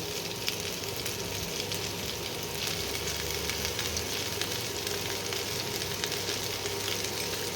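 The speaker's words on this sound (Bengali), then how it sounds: "আলুগুলো এবার ফুলকপির মধ্যে দিয়ে ভেজে নেব" Potato pieces frying together with cauliflower in a pan: a dense, continuous sizzle of hot oil, steady and close, with faint stirring and no voices.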